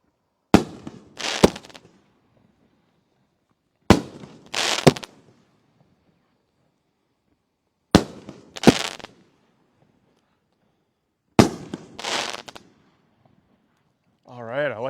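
Fireworks with blue effects firing in four separate bursts a few seconds apart, each a sharp launch followed by a crackling pop, fairly close with quiet gaps between, and a voice speaking briefly at the end.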